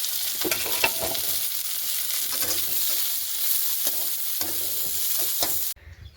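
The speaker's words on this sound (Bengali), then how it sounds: "বিনস, গাজর, লঙ্কা আর রসুন সঙ্গে এটাকে ভেজে নিই।" Beans, carrot, chili and garlic frying in a pan, giving a close, steady crackling sizzle broken by stirring scrapes, cutting off abruptly near the end, with no voices.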